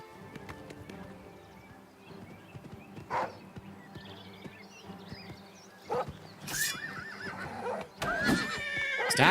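A horse under attack in the video game Oblivion Remastered whinnies sharply a few times amid clopping hooves and combat noise, the neighs growing louder and more frantic toward the end.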